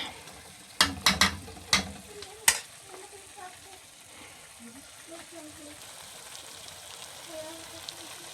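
Chicken pastil being stirred in a pan, a handful of sharp utensil scrapes and clanks near the start over a soft sizzle, then quieter stirring while someone talks.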